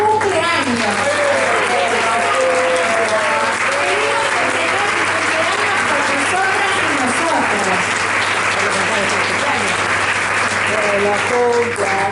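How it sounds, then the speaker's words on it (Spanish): An audience applauds for Sandra's birthday with loud, sustained clapping, and overlapping voices cheer and call out over it throughout. "le pido un gran aplauso porque hoy cumple años"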